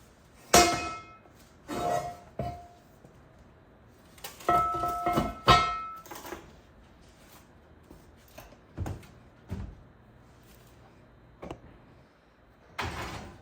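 Heavy lid set onto a Dutch oven holding a sourdough loaf, then an oven door shut, heard as a series of sharp clanks and knocks with some metallic ringing, spread out with quiet gaps between them.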